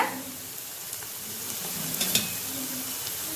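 Garlic pickle ingredients sauté in a pan with a close, steady sizzle and a few light stirring scrapes and clinks, with no talking.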